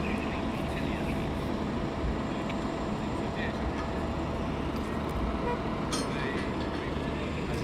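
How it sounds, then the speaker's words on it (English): Aircraft taxiing toward runway 27 at East Midlands Airport, a steady broadband engine rumble and roar heard from nearby outdoors, with some voices in the background. "As it taxis up for runway 27 departure"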